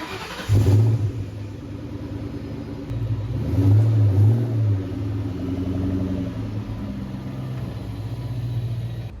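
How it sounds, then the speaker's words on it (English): A car engine cold-starts in a home garage with a cranking burst, then settles into a loud, rough, elevated idle with a brief rev, alone with no talk. "A little cold start."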